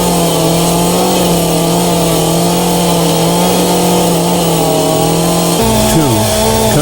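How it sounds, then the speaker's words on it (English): A chainsaw cuts an archway through a log wall, its engine holding a loud, steady droning whine throughout, with the pitch briefly dipping and wavering near the end. "Cut out any archways. Be careful to keep the saw at right angles to the wall."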